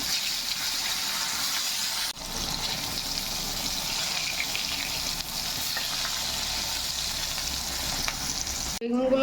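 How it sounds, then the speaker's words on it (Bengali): Eggplant pieces fry in hot oil, a steady close sizzle running nearly unbroken with a brief dip partway through and a small clatter as pieces are turned near the end. "এই যে বেগুনগুলো আমি পাল্টে পাল্টে ভেজে নেবো।"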